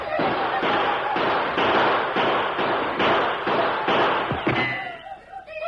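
Gunfire in an old Western radio drama: a rapid volley of about eight loud, close shots fired at an even pace, ending with a couple of trailing cracks and fading reverberation.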